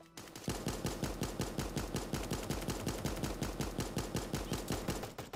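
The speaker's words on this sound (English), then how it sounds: "he's just shooting into the trees" Rapid automatic gunfire in the video game Super Animal Royale, a steady fast stream of sharp evenly spaced shots sustained for several seconds, close and loud with no voices.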